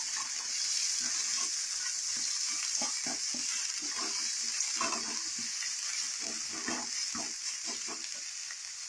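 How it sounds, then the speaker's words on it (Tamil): Onions and curry leaves sauté in a hot pan with a little chana dal, a steady broad sizzle running throughout with repeated soft scrapes and stirs of the spatula, close and continuous with no talking. "கருவேப்பிலை, அடுத்து வெங்காயம், இதை நல்லா வதங்கணும்."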